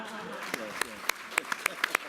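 A small audience at a panel discussion event claps sparsely, with a handful of distinct, separated hand claps over a quiet room murmur.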